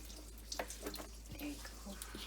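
Water runs over salted green papaya in a colander, a quiet, uneven splashing and trickling with small bursts as the pieces shift.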